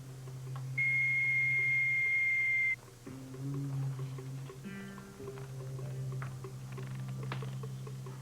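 A whistle blown as a signal gives a single steady, piercing tone lasting about two seconds, over a low, continuous background hum.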